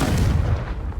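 A blasting Confringo spell explosion in the video game Hogwarts Legacy, one loud booming burst that fills the moment and rumbles off quickly, heard alone with no talk.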